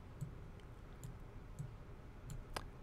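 Several faint, sharp computer mouse clicks in iTunes spaced irregularly over a quiet background hum, with one slightly louder click near the end.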